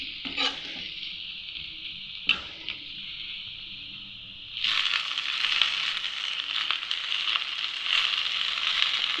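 Ginger, garlic and chillies fry in a pan with a soft sizzle broken by a few sharp stirring clatters. About halfway through, the sizzle swells into a louder, steady, close-up crackle.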